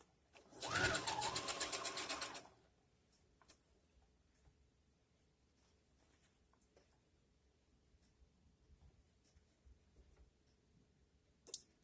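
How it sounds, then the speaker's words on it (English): Serger stitching a seam on an Armani blouse, a fast loud mechanical whir lasting about two seconds up close, then quiet with scattered faint clicks and a small knock at the end. "I will go till the end of the serger seam."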